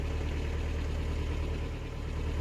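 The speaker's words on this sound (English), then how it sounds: "That engine noise was not getting any better." A canal boat's engine runs steadily close by on the Lancaster Canal, a continuous low rumble with a faint knocking edge that holds level throughout, with no talk over it.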